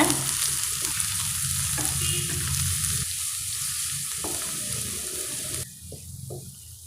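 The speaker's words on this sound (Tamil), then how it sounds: "இப்போ நம்ம வெங்காயத்தை சேர்த்துடலாம் கூடவே நாம் கருவேப்பிலை சேர்த்துடலாம் பச்சை மிளகாவும் சேர்த்துடலாங்க எல்லாத்தையும் நல்லா வதக்கிக்கோங்க" Onions, curry leaves and green chillies sautéing in a pan, a close, continuous bright sizzle with stirring scrapes that drops to a softer hiss near the end.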